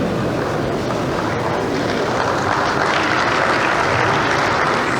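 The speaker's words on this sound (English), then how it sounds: "that's why they're clapping for you" An audience claps continuously at a regional development forum, a broad, steady patter of many hands holding level throughout, with no talk over it.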